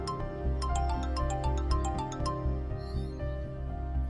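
A phone rings with a bright, repeating electronic melody over a low musical bed in a drama scene, loud and close with no talk over it.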